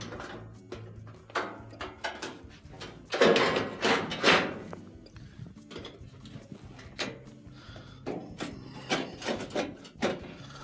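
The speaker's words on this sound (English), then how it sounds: "To reinstall the top panel, just gonna use the back and pivot it up," The top panel of a Frigidaire gas oven is pivoted and lined back into place, making close, scattered metallic clunks, thuds and light rattles in an uneven rhythm.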